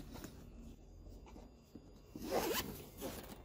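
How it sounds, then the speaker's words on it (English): A zipper is pulled along the edge of a drone carrying case for an SJRC F11 gimbal drone, a close, quiet rasping run that grows louder toward the end. "The zippers go both ways."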